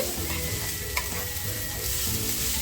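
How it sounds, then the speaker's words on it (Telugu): Ridge gourd peels fry in a pan for a chutney, giving a soft, steady sizzle with occasional stirring scrapes and one brief clink. "చక్కగా దోరగా వేగిపోనివ్వాలండి వేగిపోతే"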